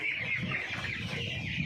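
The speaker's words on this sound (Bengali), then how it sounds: "চঞ্চল আছে মুরগিগুলো, এক কথায়" A crowd of chickens on a poultry farm clucks and chatters continuously, a dense, close, overlapping flock sound with no pauses.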